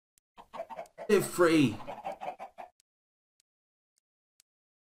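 Chickens clucking in the video game Minecraft, a short burst of clucks mixed in with a player's voice, followed by near silence.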